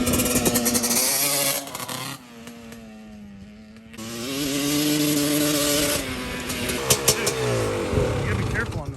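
Honda 250R two-stroke engine revving hard while riding, rising and falling in pitch with a brief dip near the middle, loud and close with a voice talking over it.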